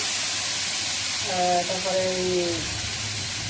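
Cumin, coriander and other spices fry in a pan for Katla fish curry with a steady, close hiss and sizzle, while a voice speaks briefly over it midway.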